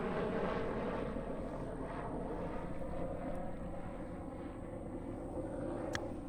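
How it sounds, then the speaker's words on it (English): A steady engine drone with a rotor-like pulsing hangs overhead throughout, fairly loud and continuous, with no voices. "Good old helicopter."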